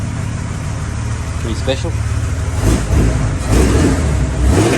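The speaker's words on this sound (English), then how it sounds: "so your classic Valiant sort of sound to it. You got a 265 Hemi. The hot dog exhaust." Valiant VJ Charger with a 265 Hemi and hot dog exhaust, its engine idling then revving in a couple of swells close by, while someone talks over the sound.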